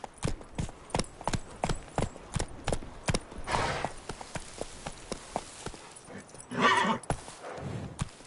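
Roach the horse gallops in The Witcher 3, with hooves striking in a fast, regular clip-clop close by and a burst of breathy snorting or whinnying near the end.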